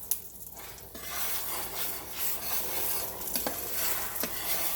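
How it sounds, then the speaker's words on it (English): Scrambled eggs stirred in a hot skillet, a continuous sizzle with scraping utensil strokes against the pan, close and steady with a few sharper taps, no talking. "Just keep it stirred so they don't scorch or anything like that."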